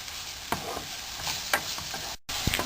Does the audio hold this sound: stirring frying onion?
yes